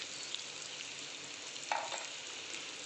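Okra with turmeric, asafoetida and salt sizzles softly in a pan as it is stirred, a faint, steady hiss broken by a single brief scrape of the spoon; no voices.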